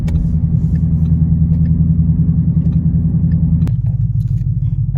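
Base model Ford Mustang GT engine laboring under acceleration, a loud steady low rumble that drops in pitch near the end as it struggles to pick up speed, with no talk.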